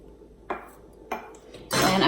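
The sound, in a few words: garlic being added to ginger dressing in a bowl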